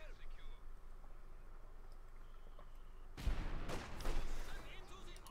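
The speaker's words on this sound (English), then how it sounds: "Looks like he's bombarding this because he's anticipating his opponent maybe having something there." Artillery bombardment in a World War strategy game, a quiet stretch of low rumble and crackle giving way to a pair of loud booming impacts with rolling, noisy tails near the end.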